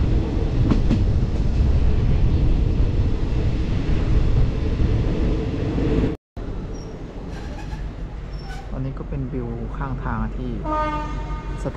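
A train crosses the first Thai-Lao Friendship Bridge over the Mekong at Nong Khai with a loud, continuous rumble and wheel clatter from on board. A short horn sounds, then a voice talks over the fainter running noise.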